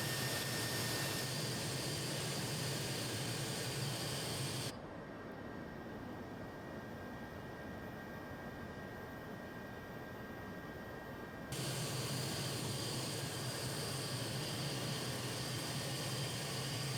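An aircraft engine drones steadily as a plane flies low over Los Angeles in a flight simulation game, a loud broadband roar that dips quieter for several seconds mid-clip before returning at full strength.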